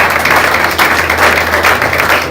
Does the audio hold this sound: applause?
yes